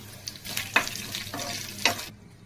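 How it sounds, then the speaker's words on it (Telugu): Curry leaves and spices crackle in hot oil for a tempering in a pan, a brief close sizzle with two sharp spits and a soft scrape of stirring, no voices. "తాలింపు వేసుకుందాం"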